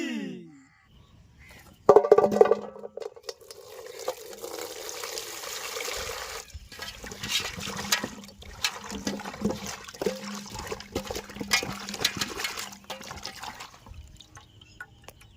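Raw chicken pieces washed under running water in a home kitchen for chicken momo, a steady splashing stream with intermittent clatter, preceded by a short sharp knock near the start.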